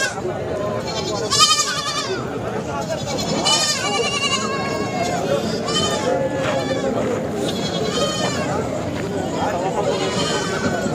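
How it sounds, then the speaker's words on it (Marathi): Many goats, sheep and kids bleat repeatedly and overlap, close by and loud, over a constant background of people murmuring at a livestock market in Sangola. "काही शेळींचे आहेत काही मेंढीचे आहेत"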